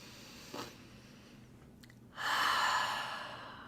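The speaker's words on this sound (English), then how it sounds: "I'd love to take a moment and invite you to take a breath with me." A person draws in a slow, deep breath and lets it out in a long, soft breathy rush, close and quiet with no talk.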